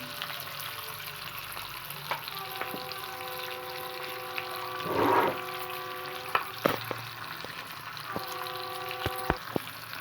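Spicy liver (kaleji) frying on a flat tawa, a steady broad sizzle running throughout with a brief louder burst of stirring midway and a few sharp clinks near the end.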